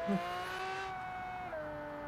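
A car engine in the BeamNG driving game whines at high revs, a sustained harmonic-rich tone that stays loud and steady, with a slight squeal near the start.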